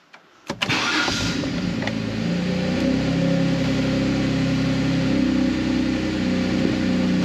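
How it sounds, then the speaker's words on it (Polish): A BMW engine cold-starting: a short crank burst, then it catches and settles into a loud, steady idle that holds alone throughout. "Uruchamiamy samochód. Zobaczymy, jak odpali."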